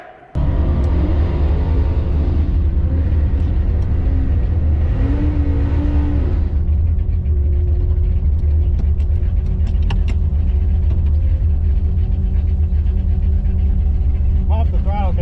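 A drag racing car engine at an NHRA Division 3 bracket finals rumbles loudly and steadily, with a brief rising rev, after the throttle cable pops; people talk over the engine noise.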